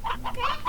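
Chickens in the Slime Rancher video game cluck in a short run of three or four close, moderately loud bursts with no talking.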